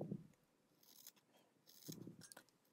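Scissors snipping through a doll's synthetic hair bangs, a few quiet close-up cuts with short crisp snaps spaced apart, alone without talk.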